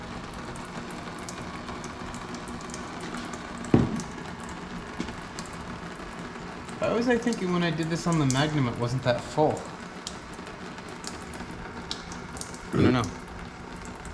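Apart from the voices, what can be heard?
transmission fluid draining from a Chrysler 300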